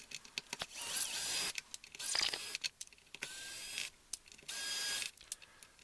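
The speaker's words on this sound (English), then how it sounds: "I'm just removing the 4 screws that hold the bridge down" Screws holding the bridge of a 2015 Squier/Fender Thinline Telecaster are backed out with a tool, producing repeated short whirring bursts broken by brief gaps, close up and fairly quiet.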